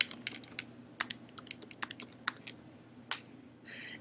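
Fingers typing a password on a computer keyboard, a quick, irregular patter of close, crisp key clicks with a few louder taps, alone without talking.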